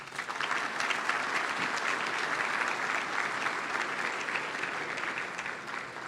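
Steady, dense applause from a large audience at an awards ceremony fills the space, sustained evenly throughout before easing slightly at the end.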